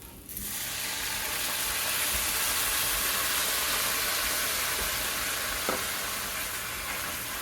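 Liquid is added to deglaze a hot pan, thinning coconut milk in a budget veggie dinner, with a loud, steady sizzle and hiss rising sharply at the start and holding throughout. There is one faint clink partway through and no talking.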